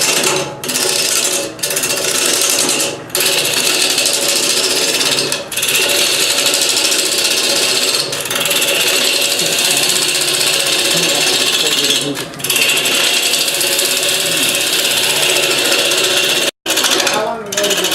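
A bowl gouge cuts a calabash-style wooden bowl on a lathe, giving a steady, loud scraping hiss that runs nearly unbroken, with a few brief pauses as the tool lifts from the wood.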